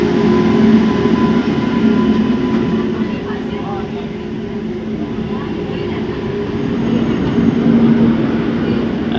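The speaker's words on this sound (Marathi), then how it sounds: "ही आपली एक्सप्रेस गाडी आली आहे पोरबंदर." Porbandar express train pulling into a station on the Konkan Railway, a steady loud rumble of wheels and carriages with a constant low drone throughout, no speech.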